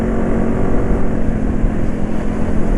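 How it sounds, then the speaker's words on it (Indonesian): A vehicle engine runs after a change to full synthetic oil, its ticking clatter buried in a loud, steady, continuous drone that holds close and even throughout, with no voices. "Yang jelas ini kelotekannya mesin banyak ya dibanding oli-oli lain"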